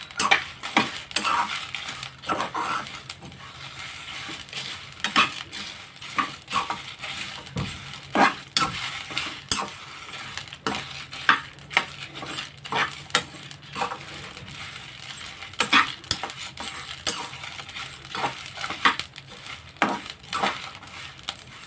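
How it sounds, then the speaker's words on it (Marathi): Mustard seeds and poppy seeds dry-roast in a pan, giving scattered light pattering and clinking, with the spoon scraping and tapping against the metal and a faint background hum. "सफेद आणि काळी मोहरी टाकूया आणि खसखस हेही चांगलं भाजून घेऊया"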